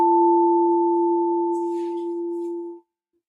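Sound healing tones hold as a pure, steady pair of sustained sine-like notes, loud and clean, with a faint airy shimmer joining midway before the tones stop abruptly.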